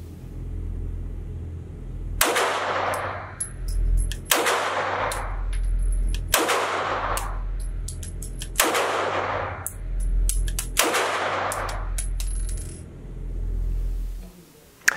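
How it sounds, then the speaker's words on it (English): Walther PDP full-size pistol with a 4.5-inch barrel fired at a range, five loud close shots in steady succession, each followed by a bright metallic tinkle of ejected shell casings landing. "she's going to have another shot at this and see if it changes the way that the shells eject"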